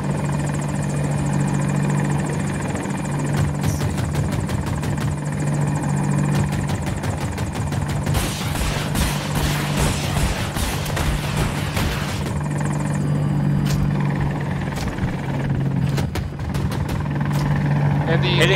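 Attack helicopter in the video game Battlefield 2042 drones steadily and loudly throughout, its rotor and engine hum constant, with sharp bursts breaking in at intervals and voices talking over it.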